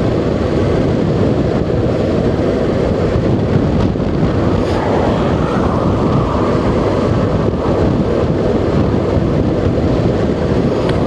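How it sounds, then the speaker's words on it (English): Strong wind on a foggy Cotswolds hilltop, heard from a moving Honda NC750X motorcycle as a loud, unbroken roar buffeting the microphone with no talk. "it's goddamn windy up here"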